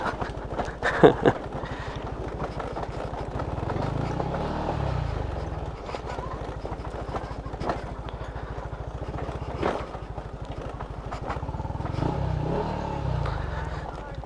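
A motorcycle rides along toward Agos River in Infanta, Quezon, its engine a steady low drone throughout with bumps and rattles, under occasional talk.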